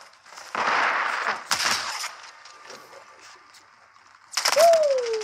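Gunfire in Modern Warfare 3, a few short bursts of shots and a swooping whine, loud and close, separated by brief quiet gaps.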